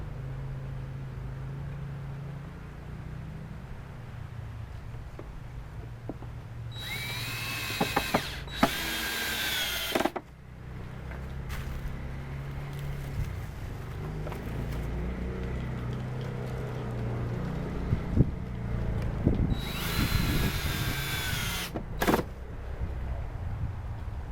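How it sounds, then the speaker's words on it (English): A power drill screws a table side into a tabletop during a cabin table build, with two whirring bursts that rise in pitch, one around the middle and a shorter one near the end, over a steady low background hum. "Now we screw the side one into the tabletop."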